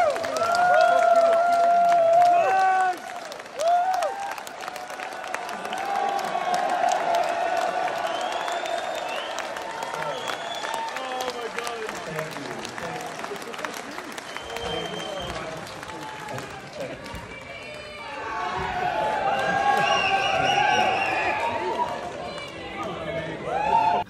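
Concert crowd roaring, cheering and applauding as a guitarist walks out on stage, a dense sustained wall of noise that dips mid-way and then surges again with whoops and clapping.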